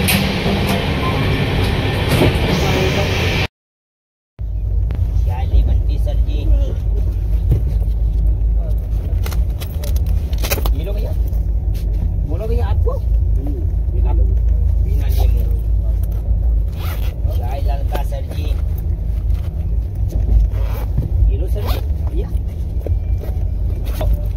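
Inside an air-conditioned train compartment, a loud steady low rumble of the moving train with rattling and clicks, briefly cut to silence early on, and voices speaking over the running noise.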